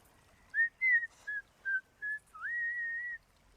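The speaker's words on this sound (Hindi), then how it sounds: "जब भी बोलने से डर लगता है तो मैं सीटी बजाती हूँ" A person whistles a short tune, several clear separate notes followed by one long held note, close and alone against near silence.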